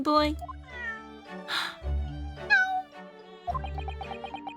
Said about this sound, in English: Oh, that's the cat from the room, isn't it?